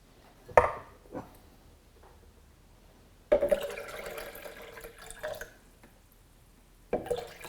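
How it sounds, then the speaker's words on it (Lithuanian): Water poured into a blender or container while making homemade plant-based milk: a few splashy drips, then a sustained pour of a couple of seconds, and a brief splash at the end, close and moderately loud. "Čia iš tikrųjų galima būtų dar šiek tiek pripilti vandens"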